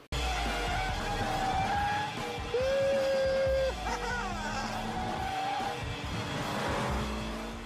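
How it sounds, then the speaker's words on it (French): A Toyota GT86 sports car with a boxer engine, six-speed manual gearbox and rear-wheel drive is driven hard. Its engine note rises and falls through revs, with tire squeal audible, close and loud. "Le moteur de cette GT86 est assez particulier puisque c'est une architecture dite boxer"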